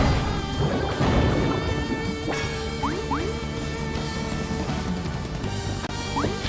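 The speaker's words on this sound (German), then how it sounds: "Hier müssen wir Blitz zaubern." A lightning spell cast in Monster Boy and the Cursed Kingdom crackles with a thunderous crash and rain-like hiss, layered under game music with chiming tones and brief sliding effects, no voices.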